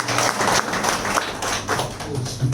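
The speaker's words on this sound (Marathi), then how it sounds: "तर एकदा हात वर करून सुनीतासाठी जोरात टाळ्या वाजवा." An audience applauding Sunita at a book launch ceremony: a dense, steady clatter of many hands clapping, close and fairly loud, continuing throughout.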